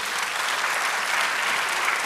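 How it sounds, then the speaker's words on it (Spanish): Church congregation applauding together at a Saturday jubilee worship service in Poughkeepsie, New York, a steady, dense wash of clapping from many hands that holds evenly from start to finish with no voices above it. "Den un aplauso al Señor entonces."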